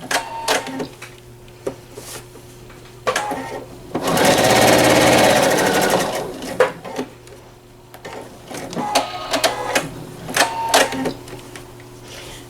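A PFAFF Quilt Expression 4.0 sewing machine stitches in short bursts with clicks between, then races fast for a couple of seconds in a loud continuous whir before slowing back to brief stitching runs.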